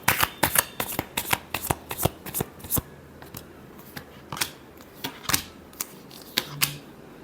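Tarot cards shuffled by hand, a quick run of crisp riffling snaps and slaps in uneven bursts, close and clear with no talking.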